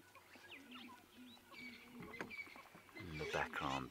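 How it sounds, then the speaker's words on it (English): Southern ground hornbill calling at sunrise in the Sabi Sand bush, its low booming notes repeating faintly in the distance amid bird chatter, with a person speaking over the top. "hear a special bird called a ground hornbill calling."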